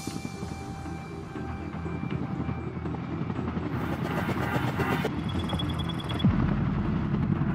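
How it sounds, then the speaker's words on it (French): A helicopter's rotors and turbine whine steadily close by, the noise building and shifting in pitch as it powers up. "L'hélicoptère de l'ambassadeur décolle à 18h46."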